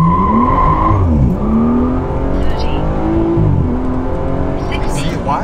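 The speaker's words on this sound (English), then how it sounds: "let's do it again in Sport Plus mode and get a good launch" Car with a stage 3 XHP transmission flash launching hard in Sport Plus mode, loud engine revving and climbing through gears with rising and falling pitch sweeps, close and continuous.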